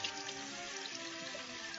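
Water runs steadily from a tap at low level to wet hands before washing with powdered Boraxo soap, a continuous soft splashing hiss without talk.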